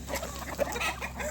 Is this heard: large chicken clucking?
yes